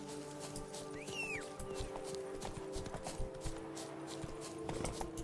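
Horse hooves clip-clop in a steady walking rhythm in The Witcher 3, with a brief whinny and a low background music drone, close and fairly quiet.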